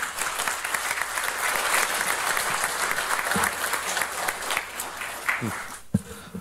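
A crowd at a presidential campaign press conference applauds loudly and steadily, and the clapping thins out near the end with a few sharp knocks.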